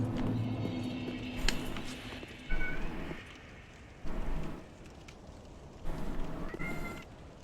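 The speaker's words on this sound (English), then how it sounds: "If he keeps meowing, that works for me." A cat meows several times in short separate calls, moderately close, over a soft steady background hiss.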